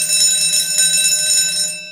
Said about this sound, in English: Had a feeling we were going to have a second bell there.